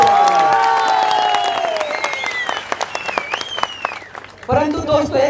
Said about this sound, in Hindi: तालियां बजा दो एक बार